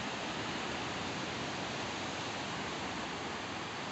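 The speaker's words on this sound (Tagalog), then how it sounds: "Ganda ng alon, no?" Steady broadband roar of sea surf rolling onto Taberna Beach in Bauang, La Union, constant and fairly loud with no distinct breaks, a continuous wash of waves with no voices.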